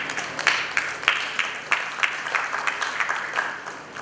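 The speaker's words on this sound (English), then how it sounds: "a round of applause for Mr. Shantha Vijay from Acton." An audience at a payments industry conference in India applauds a speaker, steady claps with sharper accents scattered throughout, filling the hall at moderate loudness with no talking.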